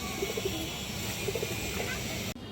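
A red-geared female kaldom pigeon gives soft, low coos in two short bursts. The calls are faint and sit under steady background noise.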